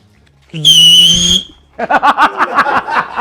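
A loud, shrill referee whistle blast lasting about a second, followed by a burst of laughter.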